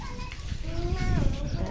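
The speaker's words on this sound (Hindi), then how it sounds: "आप इस तरफ देख सकते हो कैसे बच्चे खेल रहे हैं सब पानी में।" Children play in rainwater outdoors during the monsoon season, with high excited voices and shouts over a dense, noisy wash of splashing and background sound, all heard close and fairly loud.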